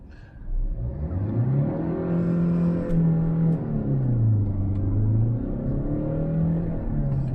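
Diesel engine of a Hyundai Creta manual (BS6) revving with traction control switched off, a steady loud rumble whose pitch climbs and falls in several smooth swells, heard close with no talking.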